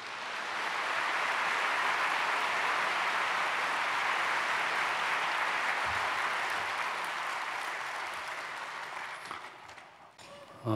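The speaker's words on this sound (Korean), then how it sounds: "목사님 박수로 환영하겠습니다" A church audience at a prayer meeting for peaceful reunification claps to welcome a pastor, broad continuous applause that holds for several seconds, then thins and fades out near the end.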